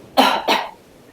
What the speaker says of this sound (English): Do you also cough into your elbow?